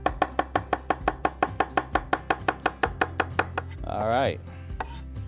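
Knife chopping onion on a cutting board in a home kitchen: a steady, rapid run of crisp close chops lasting about four seconds, then a brief rustle as the pieces are scraped aside, with a short spoken remark.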